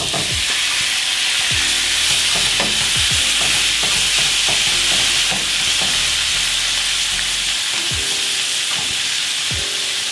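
Shrimp sizzle in a pan with garlic, a steady loud frying hiss throughout, with a utensil clinking and scraping against the pan at irregular moments and no one talking.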